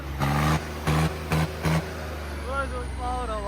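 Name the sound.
Swaraj 855 tractor engine revving in a tractor tug-of-war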